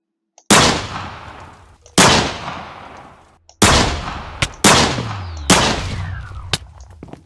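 Five loud, close gunshots in the video game McDonald Mystery 2, spaced about a second apart, each a sharp crack with a ringing decay, the last ones nearly overlapping.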